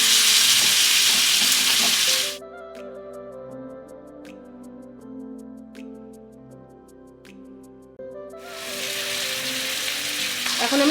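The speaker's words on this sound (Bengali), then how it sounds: "এখন আমি মাংসগুলো দিয়ে দিচ্ছি। এখন ঢেকে ঢেকে ভালো করে কষিয়ে নেব" Mutton pieces for a Bengali mutton and potato curry fry and are stirred in a pan, giving loud, dense sizzling at the start and again near the end, with a quieter musical stretch between the two bursts.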